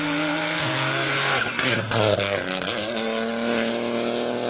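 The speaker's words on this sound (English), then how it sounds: "car 18, which is Stephen Dolphin's little Opel Corsa Rally 4" An Opel Corsa Rally 4 rally car runs a special stage at Rally Wervik, its engine revving up through the gears with shifting pitch and a brief tire squeal, loud and close.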